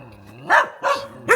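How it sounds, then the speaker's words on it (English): Dogs bark beside Scuttle Hole Gap Road, a wagon road over Pine Mountain in Kentucky; three loud, close barks come in a loose, uneven rhythm with quiet gaps between them. "past the sentry dogs"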